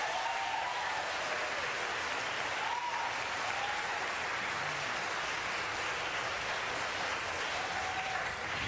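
Dense, steady applause from an audience at a Los Angeles city council meeting, a continuous wash of many hands clapping at once, sustained and fairly distant without pause or voices.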